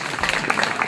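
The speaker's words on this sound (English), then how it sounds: "Everyone clap" Brief, close applause from a small group at a points tally, under a second of scattered clapping.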